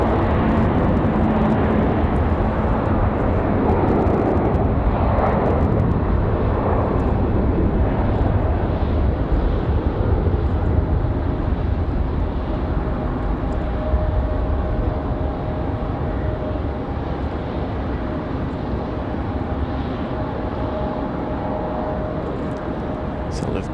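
Lufthansa airliner departing Raleigh-Durham for Frankfurt on a windy day, a sustained broad engine roar, loud at first and slowly easing, with talk heard over it.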